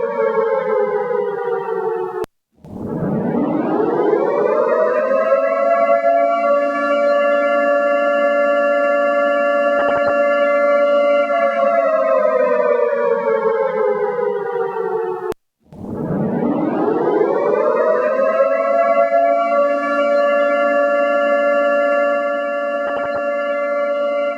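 Air-raid siren wailing loudly in two long cycles, each rising sharply, holding a steady tone, then dropping off, with a brief gap between them and no voices.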